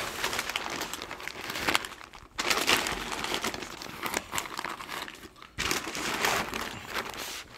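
Smoked Wagyu brisket is being wrapped tightly, with repeated crinkling and rustling of the wrap in three long bursts separated by brief pauses, close up and with no talking.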